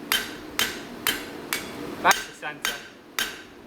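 Sharp, ringing hammer blows strike metal at a steady rhythm, about two per second, close and loud, with a brief spoken word between strikes.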